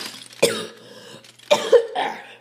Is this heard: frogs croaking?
no